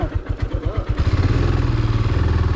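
Royal Enfield Himalayan motorcycle thumping along a rough, broken road on a hill ride, its engine pulsing in a close, loud, steady beat that smooths into a continuous drone, with no voices.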